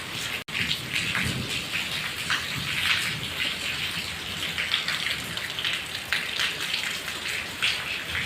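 Heavy rain pours down steadily on a Pakistani village, a dense continuous hiss of drops striking surfaces, close and loud throughout with no voices.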